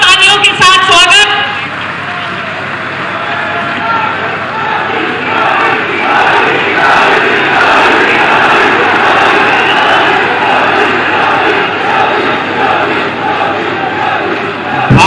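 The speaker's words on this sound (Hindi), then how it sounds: "हमारे मुख्यमंत्री श्री आदित्यनाथ जी के लिए जोरदार तालियों के साथ स्वागत" A large crowd at a political rally in Sambhal welcomes Chief Minister Yogi Adityanath with loud, sustained clapping and cheering that fills the whole stretch without a break.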